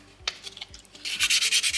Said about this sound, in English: Sandpaper number 3, the 600 grit.